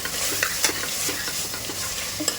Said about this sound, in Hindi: मसाले की अच्छे से भुनाई करेंगे इसलिए कच्ची महक निकल जाए।